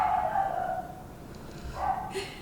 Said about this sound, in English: you might be able to hear my dog barking in the background